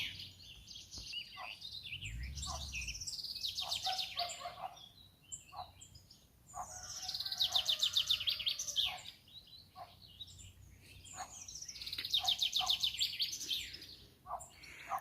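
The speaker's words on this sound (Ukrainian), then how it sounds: "ранковий спів пташок." Morning birdsong in a flower garden with irises, peonies and phlox: repeated bright chirping and warbling phrases from several birds, coming in bursts with short pauses, fairly close and clear over a quiet background.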